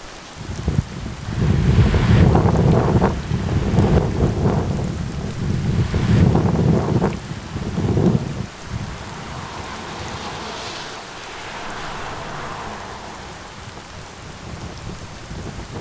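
Heavy rain drums steadily on a campsite with rumbling gusts that swell and fade, loud at first, then settling into a softer, constant downpour.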